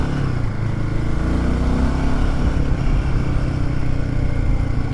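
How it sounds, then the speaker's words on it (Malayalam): Royal Enfield Himalayan 450 motorcycle lugging at low revs in third gear with a slight knock, a steady, loud, close engine drone throughout with no talk. "തേർഡ് ഗിയറിൽ 23 താഴോട്ട് പോകുമ്പോൾ ഇച്ചിരി നോക്കിംഗ് ഉണ്ട്."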